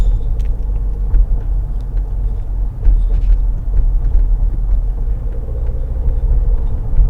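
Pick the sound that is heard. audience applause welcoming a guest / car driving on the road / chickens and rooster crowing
car driving on the road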